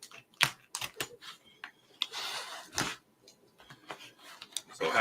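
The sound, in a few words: knife cutting tape off a package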